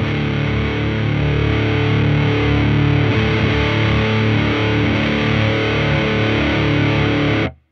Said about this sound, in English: that's when it's starting to push the amp a little bit into distortion as well on my particular amp